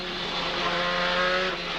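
Dick Johnson's car number 17, a touring race car at the Winton circuit in 1990, drives by with a loud, sustained engine roar at a steady pitch. The engine is close and no voices are heard.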